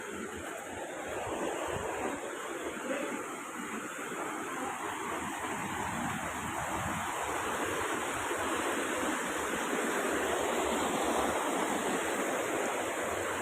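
Dense, steady rushing water at Mother Falls in Ditumabo, San Luis, Aurora, a broad continuous roar of falling water heard up close and loud for the whole stretch with no talking.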